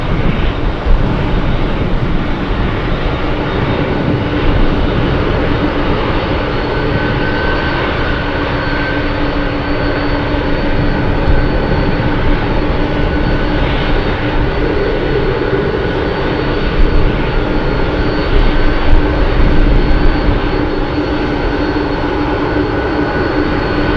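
Jet engines of a Boeing 747 Dreamlifter roar from across the airfield in Anchorage, a steady, broad, loud rumble that holds unbroken throughout with slight swells, no voices.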